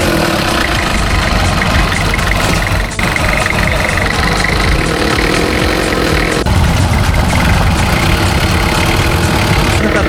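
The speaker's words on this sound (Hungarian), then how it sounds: "Felhívnám a figyelmet, hogy BMW motor." A BMW four-stroke inboard engine drives a small passenger boat on a crossing in Thailand, giving a loud, close, steady rumbling drone with a faint knocking texture that runs throughout, with no speech.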